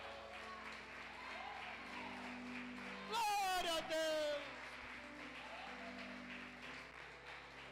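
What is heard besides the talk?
church congregation applauding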